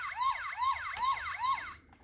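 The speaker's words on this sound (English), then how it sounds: "pressing his buttons now makes sirens!" A toy siren from the buttons of a Transformers Animated Bulkhead figure wails in four quick, evenly spaced rising-and-falling sweeps, clear and alone, then cuts off.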